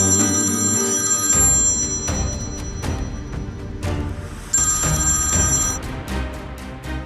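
A telephone ringing indoors, with repeated bursts of bright electronic ringtone and clear gaps between them, loud and close.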